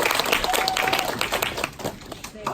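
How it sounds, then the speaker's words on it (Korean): Audience applause at a business seminar, scattered crowd clapping with sharp individual claps, mixed with background voices, thinning out toward the end. "큰 박수 부탁드립니다"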